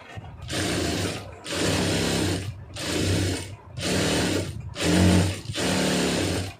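An electric sewing machine stitches a lining blouse in six even bursts of fast whirring needle action, each about a second long and separated by short pauses, close and alone.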